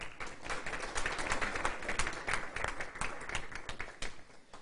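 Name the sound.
audience applause for new lifetime member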